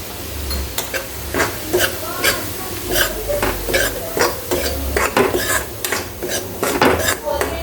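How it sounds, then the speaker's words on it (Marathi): Semolina being dry-roasted in a pan for jaggery sheera, with repeated rhythmic scraping and clinking of a spatula against the metal pan over a faint sizzle, close and fairly loud, no talking. "तो रवा मी भाजून घेणार आहे मस्तपैकी"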